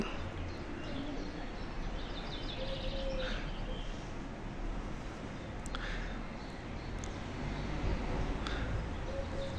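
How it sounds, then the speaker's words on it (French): Faint, scattered birdsong and chirps come from a distance over a steady outdoor background hush on a calm morning in a French village. "Je sais pas si vous entendez les oiseaux et tout."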